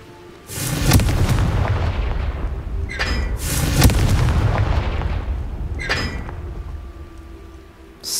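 Confringo fire spell blast in Hogwarts Legacy, several loud booming explosions with sharp cracks and rumbling tails at close range, spaced a few seconds apart, no talking over them.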